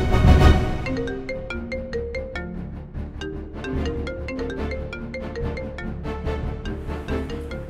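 A mobile phone rings for an incoming call with a bright, melodic electronic ringtone, its tuneful notes repeating steadily and clearly from start to finish with no voices over it.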